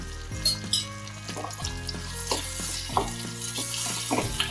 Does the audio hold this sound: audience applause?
no